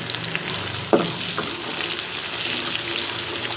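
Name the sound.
chopped onion frying in oil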